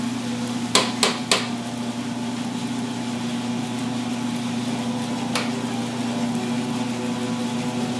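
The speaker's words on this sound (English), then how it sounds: "we're starting to hear the second crack. So the beans are again cracking and shedding their coat" Coffee beans reaching second crack in a roaster: a few sharp, close pops over a steady mechanical hum and drum whir, with another isolated crack later.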